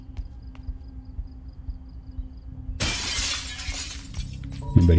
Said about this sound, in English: Shatter this window.